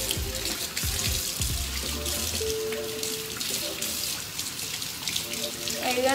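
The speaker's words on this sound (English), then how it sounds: "if I just rub my hand across it while I'm washing it in the sink, it should be fine" Water runs hard from a tap into a sink while a chalk stencil is washed under it by hand, a loud, steady splashing rush with shifting gurgles and a few clunks near the start.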